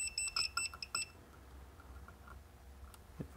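A multimeter in continuity mode gives several short, high electronic beeps in quick succession while testing an old radio switch, followed by faint handling and a quiet hum.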